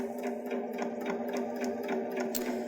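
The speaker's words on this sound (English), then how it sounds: "we'll stitch off so that you can see how this works." A Baby Lock Jazz II sewing machine stitches off a fabric edge in a stitch-in-the-ditch technique, giving a steady close whir laced with rapid, even needle ticks and no talk.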